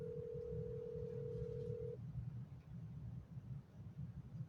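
An unanswered outgoing telephone call: a single steady ringback tone lasts about two seconds and then stops, over a constant low rumble, with no voices.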